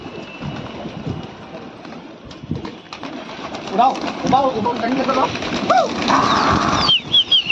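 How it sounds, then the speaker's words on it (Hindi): Pigeons flap and flutter into flight amid cooing and a steady engine hum, with people talking over the scene, in Lucknow. "उड़ा दिया गया कबूतर। कबूतरों को उड़ा दिया गया दोस्तों।"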